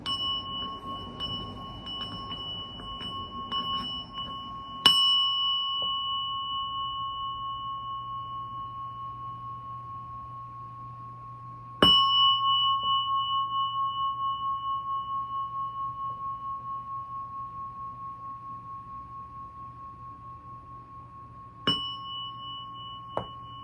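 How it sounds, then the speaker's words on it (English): A bell is struck three times, spaced several seconds apart, each a clear bright ding that rings out and decays slowly in a quiet room, with faint speech at the start. "when I ring the bell"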